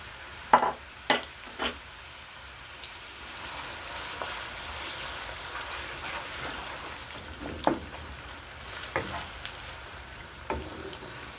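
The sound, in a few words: onions frying in a pan until brown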